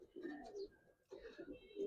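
Pigeons of the high-flying Giribaz and coloring breeds coo softly in two short bursts, the low throaty calls close by and fairly quiet, with faint voices in the background.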